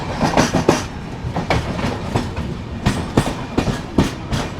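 A passenger train runs through Chandrapur railway station without stopping, with rhythmic clickety-clack wheel beats over rail joints under a steady rolling rumble, heard close from on board.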